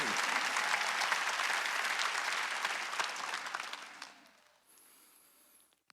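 A church congregation at an Easter Sunday worship service bursts into loud, dense applause that holds steady for about four seconds, then drops away to quiet room tone.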